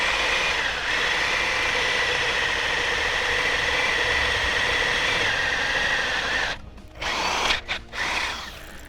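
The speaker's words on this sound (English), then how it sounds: "we're going to drill to the large size for the bung that'll go in there" A power drill whines steadily into the metal oil pan of a Mazda Miata NB for several seconds, loud and close, then stops and restarts in short bursts.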